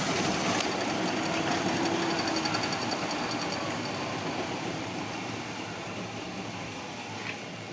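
A roll-cutting machine for 4-inch rolls, its wheel turning on a 2.5 motor, runs as a loud, steady mechanical drone with a fine rapid rattle, continuous and close throughout.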